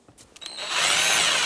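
A power tool briefly drives a 5.5mm screw into the combination switch of a 2008-2010 Ford F-450, with a few small handling clicks, then a loud, close whir.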